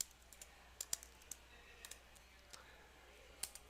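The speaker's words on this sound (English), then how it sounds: "you can get away with just typing in all ones across" Quiet, close keystrokes on a computer keyboard as values are typed into a networking configuration, a sparse uneven patter of crisp clicks with a few sharper taps, over faint background hiss.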